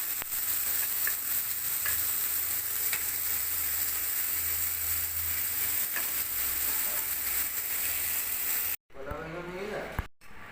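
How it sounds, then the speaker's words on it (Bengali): Raw banana slices sizzle in hot oil in a pan, a dense, steady hiss with faint stirring clicks that cuts off near the end, followed by a brief burst of other noise. "আবার তেল দিয়ে দিব, আরও একবার ভাজতে হবে।"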